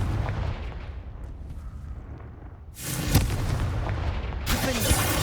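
Confringo spell cast in the Hogwarts Legacy game, heard as a deep rumbling blast that gives way to a second crackling explosion with a sharp crack, while a lower boom rolls on beneath.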